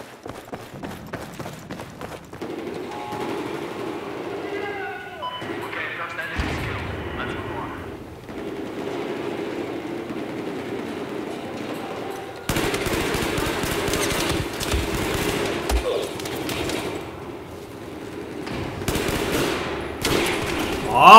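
Gunfire in Battlefield 4 team deathmatch on Xbox One, with bursts of automatic fire and crashing explosions that swell louder in the second half, over a steady game rumble.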